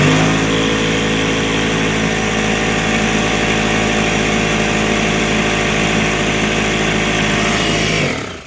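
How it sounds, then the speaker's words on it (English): An air compressor with an empty tank runs on a 2000W power inverter, giving a steady, loud motorized drone with a buzzing hum that holds for about eight seconds and then cuts off abruptly. "we're going to turn the compressor on, which we actually never saw how much power it takes"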